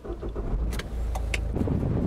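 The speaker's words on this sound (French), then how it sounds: "En voiture." Car cabin sound while driving: a constant low engine and road rumble heard from inside, with a few brief clicks and rattles over it and no talking.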